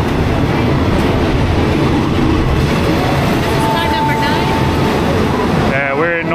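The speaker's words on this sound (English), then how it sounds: "Our train has arrived!" Third-class train in Thailand arriving at a station with a steady loud rumble and rolling noise, a brief squeal near the end, and people talking over it.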